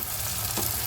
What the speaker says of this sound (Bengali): পেঁয়াজের সাথে নাড়িয়ে চাড়িয়ে ভালোভাবে মশলাটা কষিয়ে নেব।